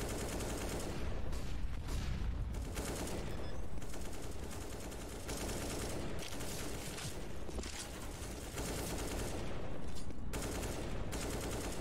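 Rapid gunfire in a Counter-Strike esports match, MIBR versus Noxious, crackles in dense bursts and volleys, loud and continuous with brief lulls between sprays.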